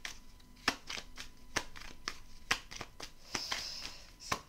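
Tarot cards are handled and laid over during a reading, with crisp, close slaps and flicks of cardboard in an irregular series of sharp taps and soft rustles.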